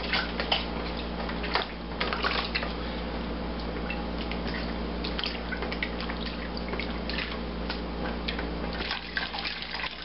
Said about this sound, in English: get some hot liquid down in there and just stir that around until you dissolve it all